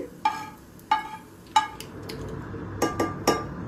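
A metal utensil clinks sharply against a plate and strainer as fried onions are lifted out and the oil is drained, about six distinct, close taps spaced irregularly over a quiet kitchen background.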